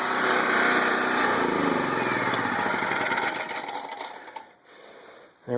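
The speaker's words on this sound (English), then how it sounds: "you can hear the generator kick on" Small generator running to power a water well pump at an off-grid site, a loud buzzy engine drone that holds steady, then dips and sputters near the end before surging back.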